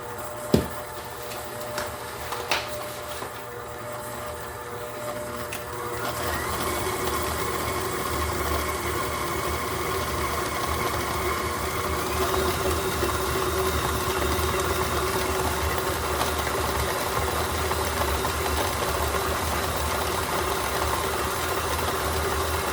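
Electric mixer beating brown sugar cookie dough for egg nog cookies, a steady loud motor whir with a rough churning texture that starts after a few seconds of quieter clatter and keeps running evenly to the end, no talking.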